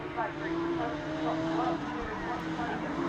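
Rallycross race cars run across a loose surface in a 2019 British rallycross round, their engines a steady, layered drone with shifting pitch that stays at a moderate distance. A commentator's voice runs over it.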